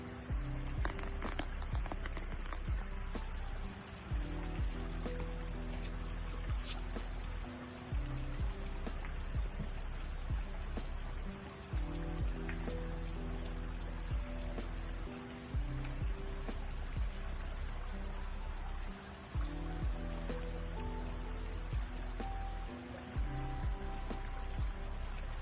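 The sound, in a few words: waterfall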